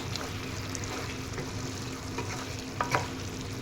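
A spatula stirs and turns chicken pieces in a hot pan, making a steady sizzling frying hiss with soft scraping strokes and a couple of louder scrapes near the end, close-up and continuous.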